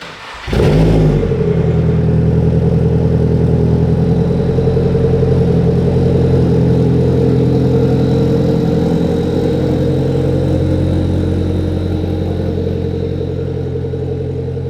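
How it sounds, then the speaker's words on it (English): A Nissan SR20 engine fitted with an HKS exhaust cranks briefly and fires into a cold start, then settles into a loud, steady, raspy high idle that holds close by with no talking. "get a cold start for it so you guys can see how it sounds with the cold start"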